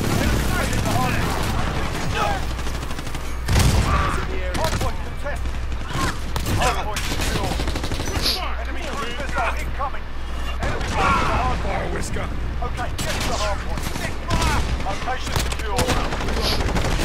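Nonstop automatic gunfire and explosions fill a Modern Warfare match on the cramped Shipment map, loud and chaotic throughout, with players talking over the barrage.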